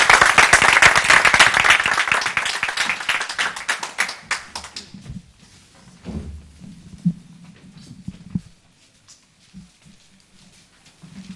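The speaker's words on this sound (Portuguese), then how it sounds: "Uma salva de palmas para ele." A theatre audience at a Tchilar theatre group performance claps loudly and densely for about five seconds, then the applause thins to scattered, quieter claps with low rumbling stage sounds underneath.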